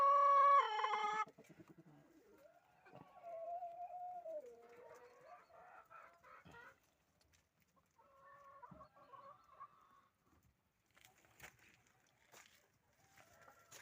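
Farmyard poultry calling: a rooster crows loudly at the start, then softer clucks, warbling calls and scattered chatter follow at moderate distance.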